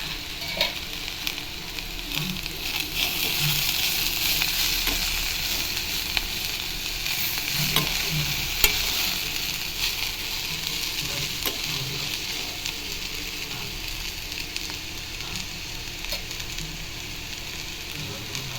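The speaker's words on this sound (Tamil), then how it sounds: "இந்த தேங்காயை காயோட மிக்ஸ் பண்ணிடலாம்" Beans and carrot stir-fry with grated coconut being stirred in a pan, a steady close sizzle and frying crackle with light scraping strokes continuing throughout, no voice.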